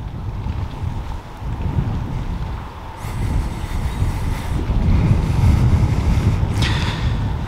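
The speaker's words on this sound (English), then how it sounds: "And unfortunately, it is still quite breezy." Strong wind buffeting the microphone on a coastal boardwalk at Slapton, a continuous low rumbling roar with gusts that swell louder in the second half.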